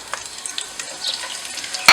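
Cumin seeds crackle and sizzle in hot oil in a kadhai: a brief, close burst of frying hiss with light pops, ending in a sharper clatter, with no one talking.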